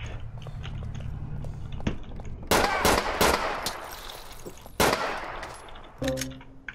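Gunfire from the police-patrol game GTA IV with the LCPDFR mod: a few sharp, loud close shots and impacts in quick succession over a low engine hum, with no talking.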